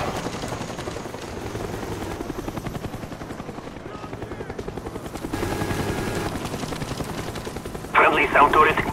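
A Cobra attack helicopter killstreak in Call of Duty Black Ops gives a steady, loud rotor thump throughout, mixed with rapid gunfire bursts and other game effects; a voice speaks over it.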